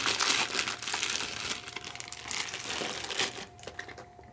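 A simple plastic bag holding a camera lens crinkling and rustling close up, a continuous run of crisp crackles that thins out toward the end.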